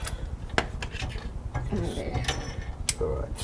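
Metal wrench ratcheting and rubbing on bolts while installing an air spring and B&W gooseneck hitch, a close, uneven series of clicks and scrapes with faint talk in the background.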